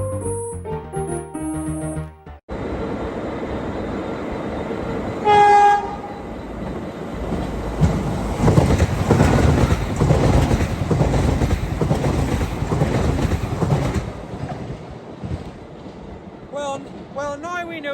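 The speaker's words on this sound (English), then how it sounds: "So now this train here is going to leave the station hopefully very soon." A train at a station in Northern Ireland: electronic beeps and a brief tone give way to a loud rising rumble of the train moving off, then fading, with faint talk.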